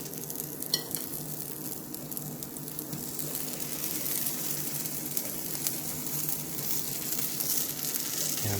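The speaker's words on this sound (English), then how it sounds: "And I'm just going to fry it on one side and then flip it over after about a minute or so." Bread fries in a warm pan, giving a steady close sizzle that swells slightly and holds constant, with a faint scrape early on.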